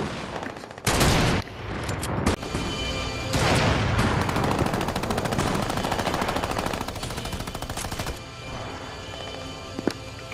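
Rapid automatic gunfire from a shooter video game, a dense, loud stream of shots in sustained bursts that stop and start, with a steady game background underneath and no audible talk.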